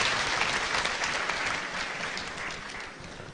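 Congregation applauding during a Baptist church convention service: dense, sustained clapping from a large crowd, fairly even in loudness and slowly tapering off.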